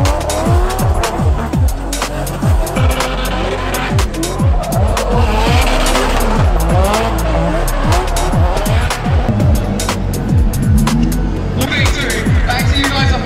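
Race cars at speed on the Mondello circuit during an LZ World Tour event, engines screaming and revving in rapid sweeping passes with tire squeal and skids, loud and continuous throughout.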